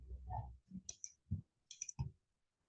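Several sharp mouse clicks in a short burst while selecting options in network lab software, close and fairly quiet, separated by brief silences.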